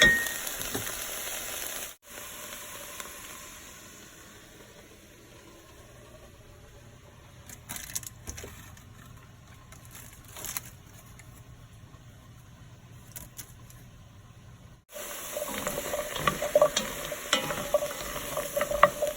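Carrots fry in a little oil for a creamy carrot soup, giving a soft close sizzle with occasional stirring scrapes. The sound cuts out to near quiet for a long stretch in the middle, then the frying returns louder.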